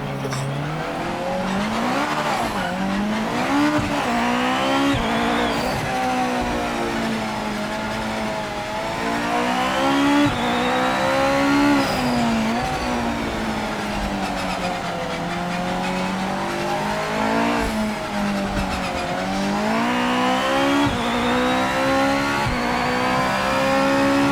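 Japanese GT500 race cars at the Nurburgring in the Project Motor Racing video game, engines loud and continuous, revving up and down through gear changes with occasional tire squeal over nearly half a minute.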